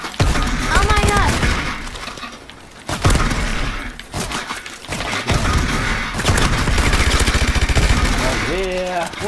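Heavy gunfire in Call of Duty: Advanced Warfare Exo Survival on PS4, with dense loud bursts of automatic weapons and impacts nearly nonstop alongside game sound effects.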